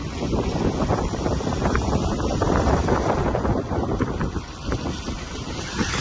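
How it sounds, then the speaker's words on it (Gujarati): Loud, gusty pre-monsoon wind in Porbandar buffeting the microphone, a continuous roaring rumble with no pauses. "ઘટો પવન આવે વાતાવરણ તો ઠંડુ થઈ ગયું"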